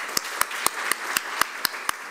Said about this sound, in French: On l'applaudit, bien sûr.